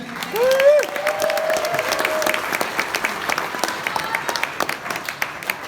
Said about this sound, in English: give her a cheer